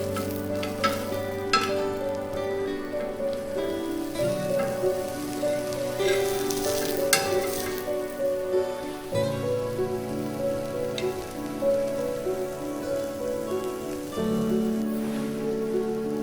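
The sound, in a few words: garlic bread frying in a pan after flipping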